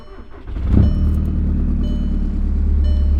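A Volkswagen TDI diesel car with an external oil cooler fitted pulls away and drives. A steady, loud, low engine rumble builds from a brief rise near the start and holds throughout.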